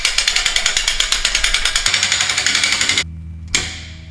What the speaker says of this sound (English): I'm gonna hook my winch up, put it right through the center of this tab.